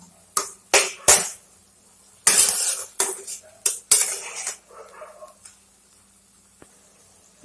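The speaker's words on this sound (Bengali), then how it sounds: "ভালো করে একটু নেড়ে নেব।" A spoon clatters and scrapes against a pot while fish-head curry with taro, turmeric, chilli and cumin powder is stirred, giving several sharp metallic knocks in bursts and then a quieter stretch with faint scraping.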